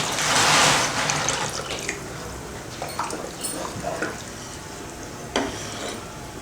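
Water poured into a pan of simmering tripe gravy, a gushing splash at the start that settles into quieter bubbling and stirring clinks, close and alone.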